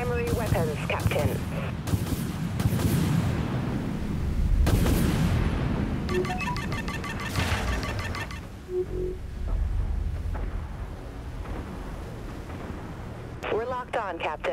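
Spaceship primary weapons fire in the game Dreadnought as heavy booming blasts and rumbling volleys, mixed with clicking and electronic tones, layered under intermittent voices throughout.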